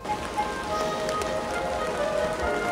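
Steady rain falling as a sound effect in a comedy skit, a dense continuous patter of drops that fills the whole stretch at an even level with no voices.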